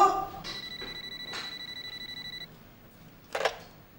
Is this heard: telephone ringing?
yes